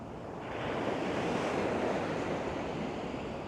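Ocean waves breaking on the shore at Baker Beach, San Francisco, heard as a steady, loud wash of surf mixed with wind rumble, continuous and fairly close, with no talking over it.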